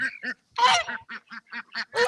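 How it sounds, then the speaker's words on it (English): Farm ducks calling, a loud, close run of honking quacks in a steady, rapid rhythm with short gaps between calls. "These are our 4 ducks that we had originally."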